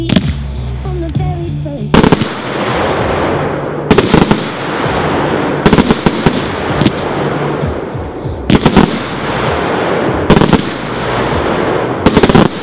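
A Dominator 49-shot fan red and gold break firework cake fires loud, repeated bursts of rapid shots in clusters every couple of seconds, with crackling booms echoing between volleys.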